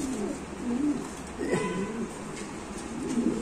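A large Indonesian-type pigeon coos in low, throaty, repeated phrases close by, over a steady background hum, with no talk.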